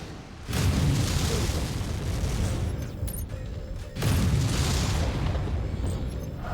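Explosions in the video game MechWarrior 5: Mercenaries, sustained booming blasts with a heavy rumbling roar that drops out briefly and then surges again, loud and close, with no voices.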